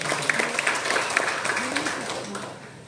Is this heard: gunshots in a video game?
no